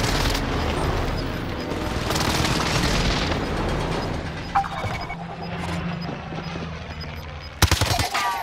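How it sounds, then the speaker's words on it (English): Gunfire and booming blasts from a first-person shooter battle royale round during an incoming airstrike, a dense continuous rumble of shots and explosions with a sharp loud burst near the end. "Oxygen airstrike incoming."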